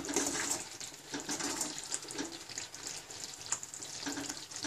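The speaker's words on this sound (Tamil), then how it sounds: "இது ஒரு 10 நிமிஷம் கொதிக்கட்டும்" Thick tamarind paste bubbles and sizzles in hot oil in a pan, with irregular popping bursts over a low steady hiss, close and fairly quiet.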